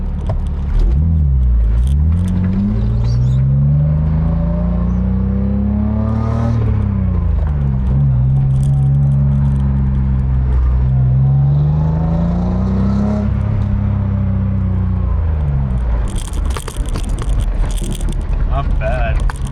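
Engine of a K-swapped car with a welded diff, revving in long rising and falling sweeps that run loud and close throughout, with an engine note that is smooth rather than rough.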